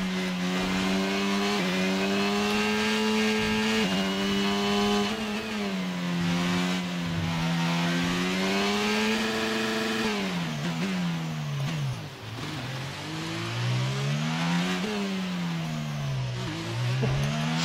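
Racing car engine in a racing video game during an overtake, a sustained loud buzzing whine rising and falling in pitch through gear changes and lifts, with a brief dip near the middle before climbing again.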